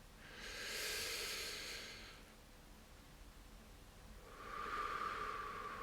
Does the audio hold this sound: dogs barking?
no